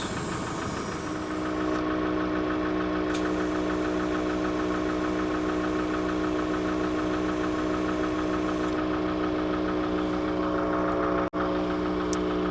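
An ARB air compressor runs continuously, inflating a 35-inch off-road tyre, a steady loud mechanical drone with a constant motor hum throughout, alone with no talk.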